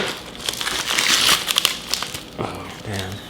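Plastic packaging for a new dirt bike engine is cut and pulled open, with loud crinkling and crackling bursts near the mic, and someone speaks briefly over the rustle.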